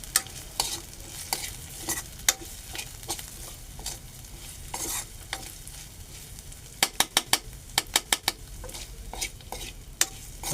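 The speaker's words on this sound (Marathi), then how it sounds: "खरडा चांगला परतून घेऊ आपण" A spoon stirs kharda, a chili paste, in a hot pan while it fries for peanut amti, with steady sizzling under repeated scraping strokes and a quick run of sharp taps on the pan near the end.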